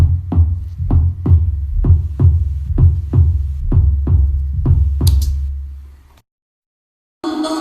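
Synthesized sub bass drop from Massive with Serum percussion hitting on top, a loud pulsing low-end pattern of about ten evenly spaced thumps, then a brief silence before the music resumes.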